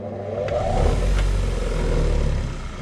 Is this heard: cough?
no